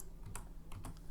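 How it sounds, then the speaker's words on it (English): Typing on a computer keyboard: a few quick, light key clicks in two small clusters, close and quiet, with no talk. "We do this by going to the search bar, typing date"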